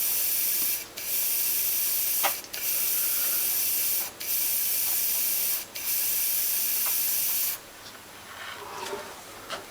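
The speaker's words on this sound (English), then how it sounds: "Insert the end into the cleaning pot" A Sparmax airbrush sprays cleaning water out into a cleaning pot in four long, even hissing bursts with short gaps between them, then stops, leaving faint handling noises.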